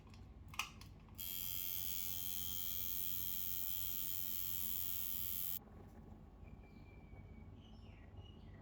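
A beginner-friendly tattoo machine, plugged in and set up, then run by pressing its foot pedal, gives a steady, high electric buzz for about four seconds before cutting off. Faint ticks come before it, and quiet room hum is heard afterward.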